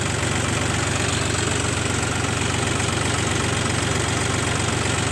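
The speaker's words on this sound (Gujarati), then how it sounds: "એક્ઝેક્ટ નવસો આરપીએમ ઉપર ટ્રેક્ટર ચાલે છે" A tractor engine idles steadily at 900 rpm with a rapid, even low knocking throb, loud and close, running without change throughout.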